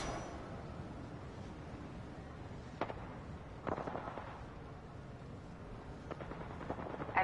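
Gunfire in the Apex Legends battle royale video game, a few sharp distant shot bursts and impacts scattered over a steady rumbling background, with no talk.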